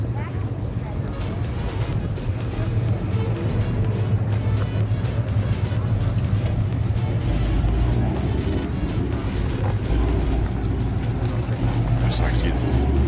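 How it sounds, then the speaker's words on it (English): Drag racing cars roar at English Mountain Dragway during the Ponies in the Smokies 2022 event, a continuous heavy engine rumble mixed with gusty wind buffeting the microphone, loud throughout with voices talking underneath. "A little drag racing going on."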